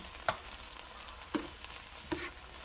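Onions and other vegetables for salmon croquettes sauté in a pan under a faint, low sizzle, with three sharp utensil taps or scrapes spaced about a second apart, quiet and close.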